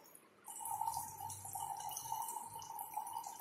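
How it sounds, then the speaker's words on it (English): Water filters through filter paper set as a cone in a funnel, making a faint, steady trickle with a soft continuous hiss and no talking. "the water is passing through the cone, this funnel, in which the filter paper is fixed onto the funnel in the form of cone"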